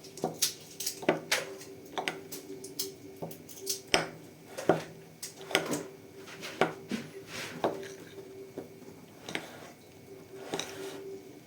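Irregular tapping and scraping of a utensil against a bowl, a steady series of soft knocks as thick oat-flour dough is stirred.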